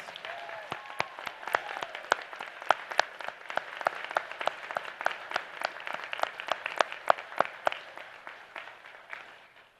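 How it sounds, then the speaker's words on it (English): Applause at the Pacific Northwest College of Art commencement honors faculty and staff. Sharp individual claps stand out near the mic over a softer spread of clapping, continuing steadily before tapering at the end. "Let's give our faculty and staff a round of applause"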